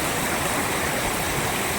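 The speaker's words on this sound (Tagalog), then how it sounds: "yan lakas ng tubig doon" Strong floodwater from heavy rain rushes in a steady, loud roar, broadband and continuous like a fast stream or small waterfall, with no voices over it.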